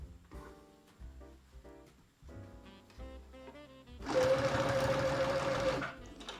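A sewing machine runs in a steady, loud burst of stitching, sewing pleats on a handmade apron, preceded by quieter handling sounds.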